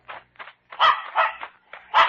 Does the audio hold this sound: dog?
yes